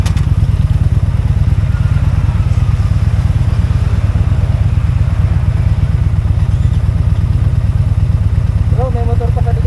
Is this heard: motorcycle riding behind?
yes